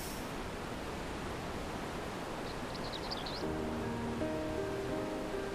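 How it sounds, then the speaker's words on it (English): A waterfall in Final Fantasy XIV pours as a steady, dense rushing wash, moderately loud and unbroken, while faint sustained musical tones rise softly beneath it in the latter half. "They're big waterfalls, aren't they?"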